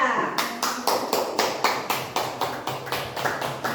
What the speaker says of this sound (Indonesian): Kita berikan tepuk tangan, aplaus dulu untuk yang sudah bekerja.